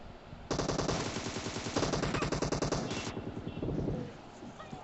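Rapid automatic gunfire from the Free Fire video game rattles out in two long bursts of closely spaced shots, loud and near, then trails off into quieter in-game sound.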